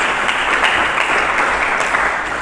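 A church congregation claps together in a loud, continuous burst of applause that lasts a couple of seconds, with no voices over it.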